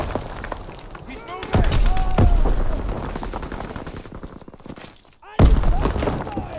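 Rapid gunfire crackles through a Call of Duty WWII team deathmatch on the Shipment 1944 map, with dense bursts and heavy booms, loud and close, under shouted voices.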